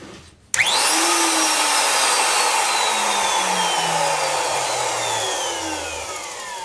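A repaired Bosch 1617 fixed base router switches on abruptly, its motor whining up to a high steady speed and then running on loudly and alone with a slight gradual drop.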